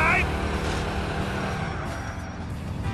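A car driven in GTA IV makes a steady, loud engine and road rumble running through the whole stretch, with a brief high tone at the start.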